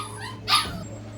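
A single sharp dog bark sounds once, close and clear indoors, over a low steady room hum.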